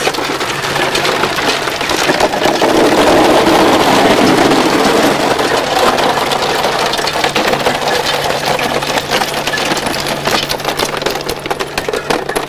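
A Maksindo Type 10 ice tube machine built for export runs with a steady, loud mechanical drone and a faint hum, continuous for the whole stretch with no voices over it.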